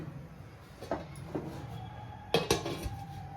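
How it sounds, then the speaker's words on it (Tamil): A few metallic clanks of an idli plate being set into a steamer pot, sharp knocks spaced apart, with a louder double clatter near the end. "இட்லி தட்டு எடுத்து அப்படியே உள்ள வச்சுக்கலாங்க."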